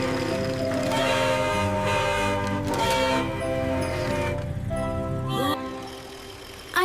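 A train horn sounds in several long, loud, harmonic blasts over rolling rail noise, then stops abruptly near the end.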